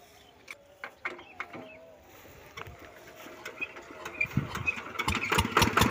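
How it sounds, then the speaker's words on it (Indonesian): A diesel engine on a Quick Kronos machine starts with a series of sharp knocks, then settles into a building, rattling idle that grows louder toward the end. "Halo Google, nyalakan diesel."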